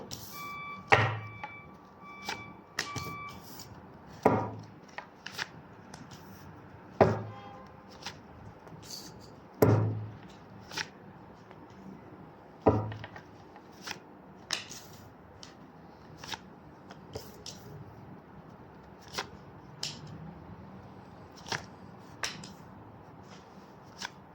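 Tarot cards are shuffled in a series of separate riffling bursts, each a quick papery flutter or snap, spaced a few seconds apart and close to the microphone, with a soft voice faintly present in between.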